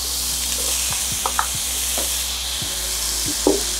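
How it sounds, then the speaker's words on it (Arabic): Zucchini dropped into a hot frying pan gives a steady broad sizzle with a few scraping stirs and clinks, alone and close. "هلا صار فيني احط الكوسة"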